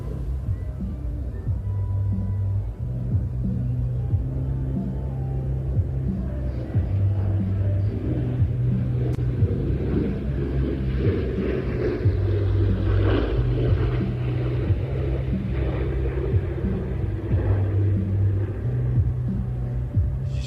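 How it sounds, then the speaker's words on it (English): Steady, droning noise of Pratt & Whitney aircraft engines at an air show, a low, throbbing rumble that holds throughout, loud and close, with no voices. "She's got to love that sound."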